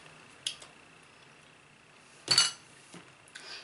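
A metal spoon clinks against a container while scooping cake with icing, giving a few sharp separate taps close by in a quiet room.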